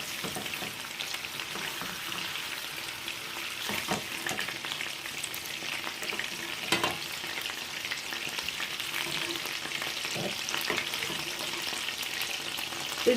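Kefta meatballs brown in a frying pan with a continuous, fairly quiet sizzling hiss, broken by occasional soft knocks and stirring sounds.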